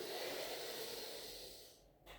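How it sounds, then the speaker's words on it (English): A person draws one long, soft breath in through the nose during a karate warm-up exercise. The breath is close and airy and ends in a brief pause. "With this movement, you want to breathe. Always breathing. So breathe in"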